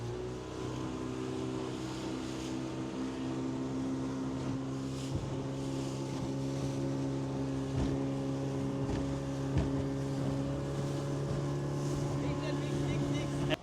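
A small boat's engine drones steadily on the water close to a larger ship off Chittagong, with a constant low hum, wind buffeting the microphone and voices talking over it.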